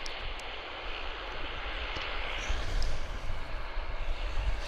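A jet airliner roars steadily at Vancouver Airport after touchdown, a broad continuous engine rumble swelling slightly louder midway, heard at a distance with no voices.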